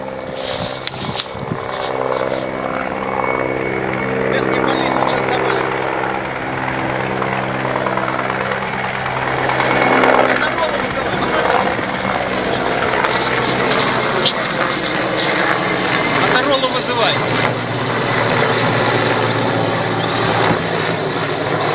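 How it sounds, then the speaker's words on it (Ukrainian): A Russian helicopter flies over the Donetsk region, its engine and rotor making a loud, steady drone that lasts throughout with a slowly shifting pitch, heard alone without talk. "гелікоптер залітає у повітряний простір України, і цей гелікоптер є не українським, є власне російським"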